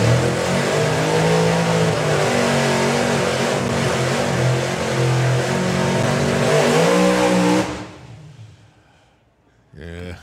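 A drag racing car at an FIA/FIM main event, running rough with too-low engine RPM, roars loudly and steadily for several seconds before cutting off abruptly, with announcer commentary over it.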